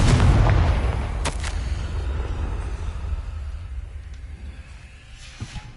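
A Confringo fire-blast spell in the game Hogwarts Legacy goes off as a loud boom, followed by a long rumbling tail that slowly fades, with a couple of sharp cracks soon after.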